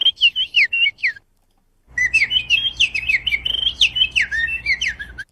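A person imitates bird calls with rapid, warbling whistled chirps in trilling bursts, a short phrase, a brief pause, then a longer run of bird-like whistles with no talking.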